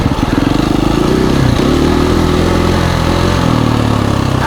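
A KTM 350 EXC-F dual-sport dirt bike engine pulls away close by, a steady loud four-stroke drone that rises briefly in pitch as the clutch engages, then settles into an even, strong running note, no talking.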